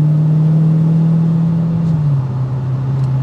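A 2023 Dodge Challenger Scat Pack V8 holds a steady, loud idle-like exhaust drone with a strong low hum that dips slightly in pitch midway, continuous and close with no talking.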